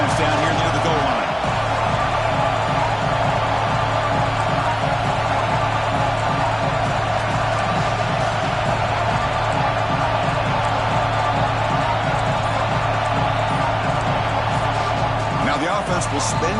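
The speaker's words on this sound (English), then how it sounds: "this big crowd doing everything possible to inspire this defense down here near the goal line" A big stadium crowd at a Stanford vs Washington college football game roars continuously near the goal line, a loud sustained wall of cheering and noise with a commentator talking over it.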